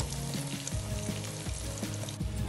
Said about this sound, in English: Take a bit of time and stir it until it all comes into place and get it fried.